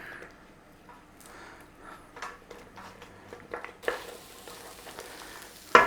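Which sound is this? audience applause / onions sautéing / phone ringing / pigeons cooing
onions sautéing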